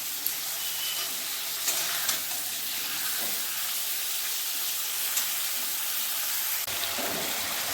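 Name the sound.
fish oil frying with potatoes in a pan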